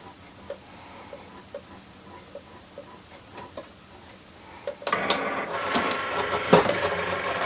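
A Cricut Explore cutting machine loads a cutting mat holding Shrinky Dink plastic, with soft ticking taps that give way to louder, busier mechanical whirring and clicking as the carriage moves.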